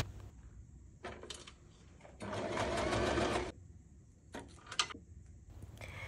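A sewing machine top stitching a bag lining runs in one steady whirring burst of about a second, framed by soft clicks and handling taps of the fabric, close up with no talking.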